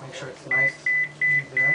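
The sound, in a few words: phone beeping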